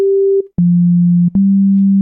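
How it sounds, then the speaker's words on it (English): A pure sine tone from the Serum 2 synthesizer holds steady, then drops to a lower pitch and continues, clean and loud with brief clicks between notes. "put this on a sine wave, and here's what a sine wave sounds like."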